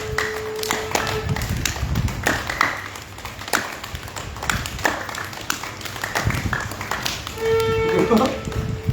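A group claps hands together as a health exercise, the sharp irregular claps and taps ringing out close by, with an instructor's voice talking in between.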